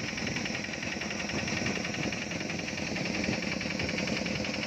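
A diesel engine drives a fuel pump aboard a fuel barge on a river and runs in a steady, continuous mechanical drone with a rapid knocking pulse. The level stays even throughout and no one speaks.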